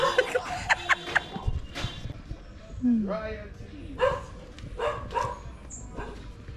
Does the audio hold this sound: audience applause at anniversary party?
no